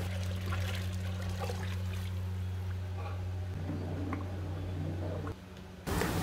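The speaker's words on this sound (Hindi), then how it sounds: "ये पूरा पतीला भर के पानी डाला जाएगा।" Water pours steadily into a large cooking pot of biryani gravy at a Pune street food stall, a continuous trickling splash with a low hum underneath, ending abruptly near the close.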